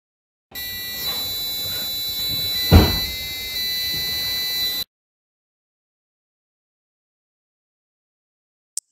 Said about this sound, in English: Whenever the read switch detects the magnet nearby, the buzzer will turn on.